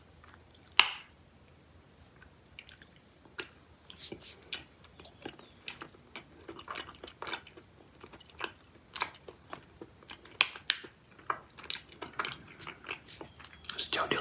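Close-up chewing of gooey spring mochi candy from Yuki & Love, soft sticky smacks and small crunchy clicks in an irregular quiet rhythm, mouth sounds up close with no voice.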